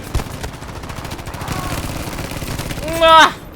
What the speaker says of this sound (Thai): ยิงไปก่อนหนึ่งลูก